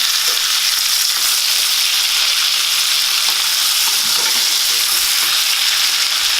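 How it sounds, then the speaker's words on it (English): Seasoned steaks sizzling and frying in a pan, a steady close hiss with crackling spatter continuing evenly without pause. "Flip your steaks."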